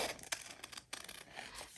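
Scissors fussy cutting around a paper giraffe image, soft close snips and papery rustling in quick irregular bursts, quiet and alone.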